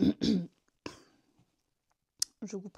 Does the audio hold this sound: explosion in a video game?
no